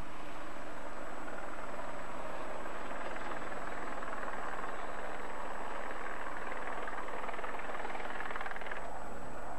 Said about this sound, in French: Cet hélicoptère, ce sont les dernières images de Thierry Sabine.